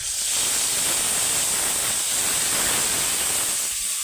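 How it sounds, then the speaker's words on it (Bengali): Marinated rohu fish is poured slowly into hot oil with nigella seeds, giving a steady, close, loud hiss and sizzle that runs unbroken throughout. "এবার এই মাছটা আস্তে আস্তে ঢেলে দেবো"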